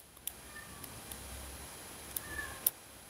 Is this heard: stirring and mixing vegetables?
no